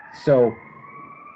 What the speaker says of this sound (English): now it's my turn to be interrupted by sirens